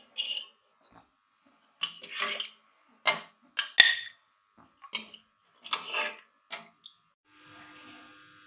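Cooked beef trotter (paya) curry being served from a pot into a dish, with intermittent metal-on-metal scrapes and clinks coming in short, irregular bursts at close range, fairly quiet, with no one talking.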